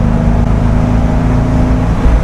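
A 1966 Mustang GT convertible's engine runs in sport mode, holding steady high revs in a lower gear on a twisty road, a loud continuous drone with a firm, even tone.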